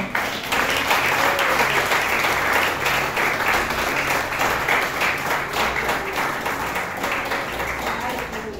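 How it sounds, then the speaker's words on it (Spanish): A church congregation applauds in a dense, steady burst of clapping that fills the room and fades slightly toward the end. "¿Cuántos dan un aplauso al Señor?"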